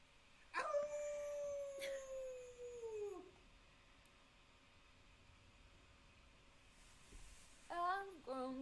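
A man imitates a wolf howling at the moon, letting out a long, loud howl that slides downward, then a shorter howl a few seconds later, in a quiet room.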